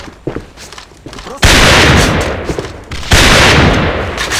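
Two loud, sustained bursts of wall-bang gunfire in the online shooter AVA, the first starting about midway and the second following shortly after, each dense and close, with faint player voices earlier.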